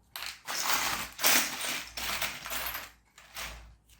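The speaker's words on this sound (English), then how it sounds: "Just looking in the box here, I might even have had enough nuts and bolts to do the job" Meccano nuts and bolts being rummaged through in a box, a close, continuous metallic clatter and jangle in uneven bursts with short pauses between them.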